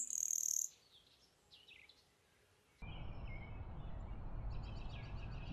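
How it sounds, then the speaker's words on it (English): Birds chirp and call in short bright bursts, first close and clear against quiet, then fainter twittering over a rushing outdoor background. "birds chirping,"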